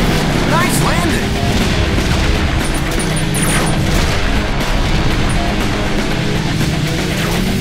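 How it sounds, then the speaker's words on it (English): Airstrike explosions in the Hot Wheels Beat That racing video game make a dense, continuous roar of booms and rumbling blasts that stays loud from start to finish. "Incoming airstrike."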